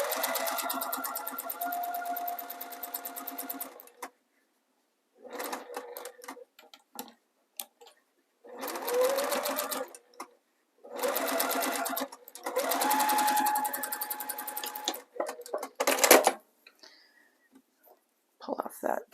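Sewing machine stitching cotton cording piping, running in several bursts of steady rapid needle chatter separated by pauses, fairly close, with brief talk in between.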